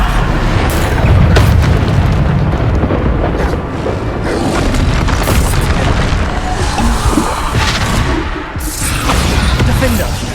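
Magic explosion from the Bombarda spell in Hogwarts Legacy, rendered as a dense, loud rumbling boom over sustained game battle noise, with further bursts and crashes layered throughout.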